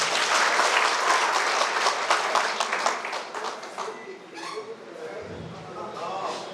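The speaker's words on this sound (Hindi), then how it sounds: "जरा तालियां बजनी चाहिए।" Audience members at a community association conference in Bhagalpur clap together in a loud, dense round of applause that gradually tapers into sparse claps and a murmur of voices.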